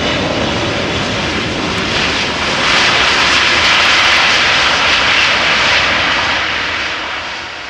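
A Suriname Airways Airbus A340 jet roars down the runway on takeoff at Amsterdam Schiphol, a loud, steady broadband engine rush that swells to a peak midway and then slowly fades as it climbs away.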